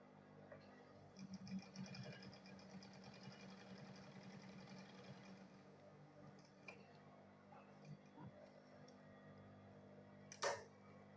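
A sewing machine stitches a double-faced fabric bag, making a faint, steady mechanical whirr with soft ticking that runs throughout, plus a sharp clack near the end.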